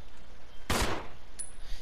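Gunfire in the Resident Evil 0 video game: one loud, sharp report with a short, noisy burst, heard alone against a quiet ambient background, followed by faint game sounds.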